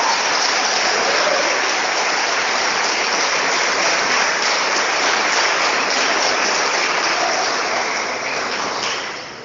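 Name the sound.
church congregation applauding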